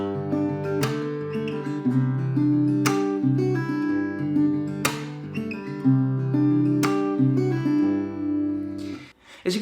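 Guitar strums a ringing chord progression with a few sharp strums and let-ring chords, clear and close, alone without talk.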